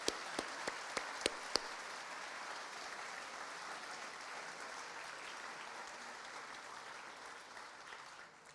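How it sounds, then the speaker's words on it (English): An audience at a banquet applauds in a dense, steady wash of clapping that starts with a few sharp individual claps and slowly fades at the end. "I think they deserve a round of applause."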